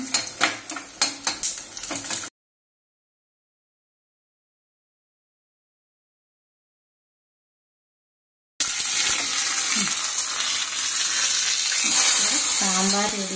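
Sambar tempering splutters and sizzles in hot oil, loud and close; a short burst of crackling pops, a gap of silence, then a long steady frying hiss that carries on to the end.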